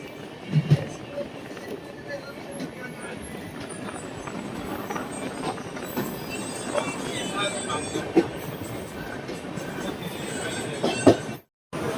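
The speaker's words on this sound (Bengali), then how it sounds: "আমাদের ট্রেন এখন ঢুকছে তমলুক স্টেশনে।" Tamralipta SF Express train rolling into Tamluk station after a curve: steady rumble of wagons and wheels with faint squeals, continuous and moderately near, with occasional talk in the background.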